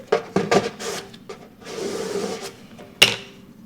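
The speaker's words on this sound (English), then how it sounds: "And burnish once more." Vinyl decal being burnished onto a sign with a scraper tool, heard as short scratchy rubbing strokes up close and a sharp tap near the end.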